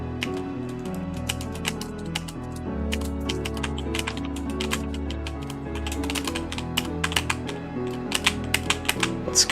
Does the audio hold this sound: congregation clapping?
no